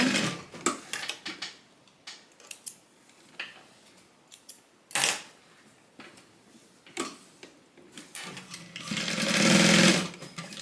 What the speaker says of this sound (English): I'm just gonna add a little basting stitch at the top just to keep them together.